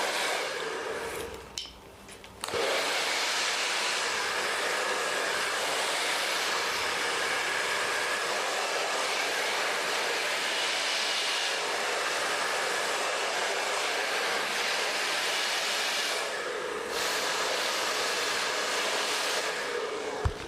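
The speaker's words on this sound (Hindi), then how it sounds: "पहले पीछे से ड्रायर करेंगे।" A hair dryer blows steadily on curly hair, a loud continuous broadband rush that starts after a brief sputter and runs unbroken for most of the stretch, with a slight dip near the end.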